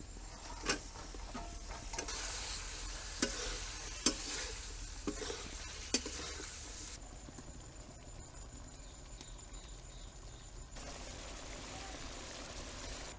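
Fried prawns and lemon leaves are stirred in a pan, giving a faint steady sizzle with a few sharp spoon-on-pan clinks in the first half, then a quieter frying hiss.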